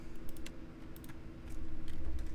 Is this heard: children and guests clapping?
no